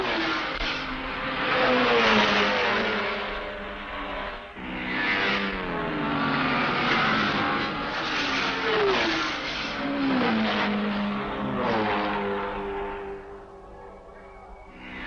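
Race cars at the 1965 Le Mans 24 Hours, including Cobras, Ferraris and Porsches, roar past one after another, their engines rising and falling in pitch as they come close and fade away.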